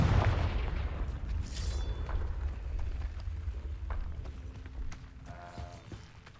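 The Confringo blasting spell bursts in Hogwarts Legacy as a deep, rumbling explosion with a sharp crackle near the start, then a long low roar that slowly fades under faint game effects.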